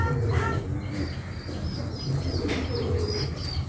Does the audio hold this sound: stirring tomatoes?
no